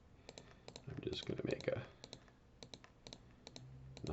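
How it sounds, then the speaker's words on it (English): Computer mouse clicks while tracing an island outline on a map during GIS digitizing, a run of sharp, close, evenly spaced clicks with someone talking over them. "I'm just clicking, click, click, click."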